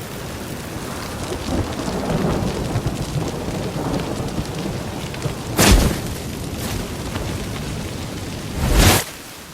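A thunderstorm in the game The Witcher 3 brings steady heavy rain with two loud, close thunder cracks rolling out, one in the middle and one near the end.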